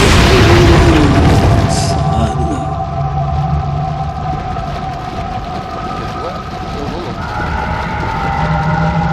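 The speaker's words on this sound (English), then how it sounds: "I'm going to throw a grenade." A grenade blast in Resident Evil 4 erupts loudly at the start, then rumbles and fades beneath lingering game ambience and a voice talking.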